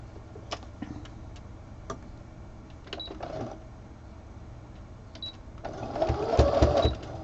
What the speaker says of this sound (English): I'm going to put the diagonal line stitches.